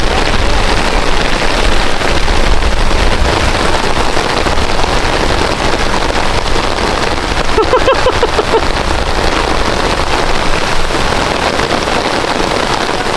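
Heavy rain pours steadily onto a golf course, a dense, loud, unbroken hiss of drops that runs the whole time, with faint voices buried beneath it.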